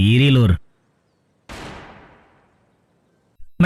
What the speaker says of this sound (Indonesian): Seusai ditinggalkan terdengar bunyi tembakan